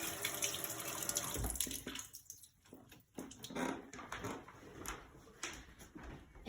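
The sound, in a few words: rinsing canned beans under running tap water in strainer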